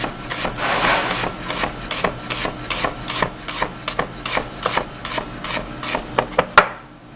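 A knife slices a peeled half onion into very thin slices on a cutting board, giving a steady run of about twenty crisp, close chops at a brisk, even rhythm, with a sharper knock near the end.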